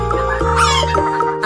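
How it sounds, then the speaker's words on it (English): A cartoon hen sound effect in a children's nursery rhyme track, a few quick clucks over a steady musical backing, clear and upfront. "H for hen"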